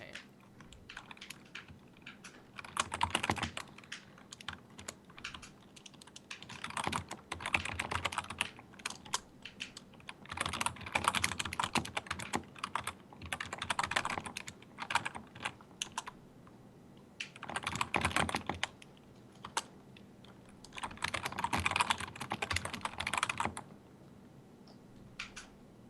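Bursts of rapid clicking on a computer keyboard come and go over nearly half a minute, close and fairly soft, with short pauses between runs of keystrokes and no voices.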